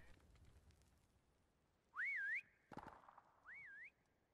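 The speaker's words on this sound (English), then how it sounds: "That whistling is always annoying." Rising, warbling whistles sound in a prop hunt video game, two short swooping whistle phrases with a brief burst of clatter between, clear and isolated against low background.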